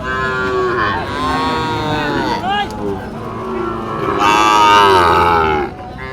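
Sahiwal bulls moo repeatedly nearby at a cattle market in Ambari, Dinajpur, long loud lowing calls one after another, with a crowd murmuring in the background.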